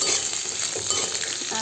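Finely chopped sweet potato slices fry in about two spoonfuls of hot ghee, giving a steady, close crackling sizzle with no voices.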